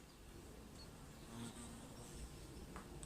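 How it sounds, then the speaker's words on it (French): A hornet buzzes faintly and steadily in a quiet abandoned sanatorium, with a thin insect drone that continues over low background noise. "Il y avait un frelon, je crois."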